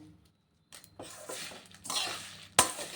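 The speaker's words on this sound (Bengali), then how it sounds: "জিরে, ধনিয়া আর শুকনো লঙ্কা তিনটে আমি একসাথে" Cumin, coriander and dried chilies are dry roasted together in a pan, heard as faint stirring and scraping with soft clinks and a sharp utensil knock near the end.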